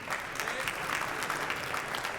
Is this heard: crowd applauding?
yes